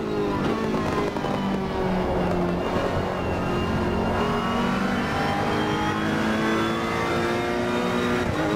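A Ferrari 488 GT3 race car in Assetto Corsa Competizione at Monza screams under hard acceleration, its loud engine note climbing through rising gear pulls with crackles, continuous and close throughout.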